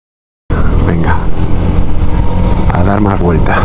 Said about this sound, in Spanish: desde que reparo el motor, que hace un poco más de ruido el motor.